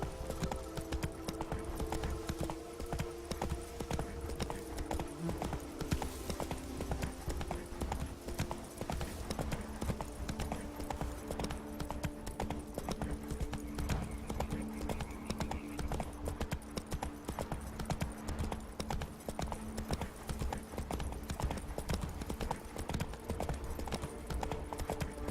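Horse hooves clip-clopping steadily in The Witcher 3 on PC, a continuous brisk rhythm of hoofbeats close up over faint background game sound, with no talking.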